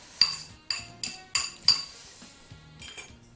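A fork clinks against a bowl while mashing meat croquette mixture, a steady series of sharp metallic taps roughly every half second, close and clear with no talk.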